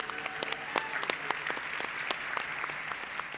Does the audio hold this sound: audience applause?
yes